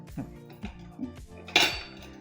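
A few ringing metallic clinks of steel utensils against a thick-bottomed steel pot, spaced apart, ending in one louder, brighter clang.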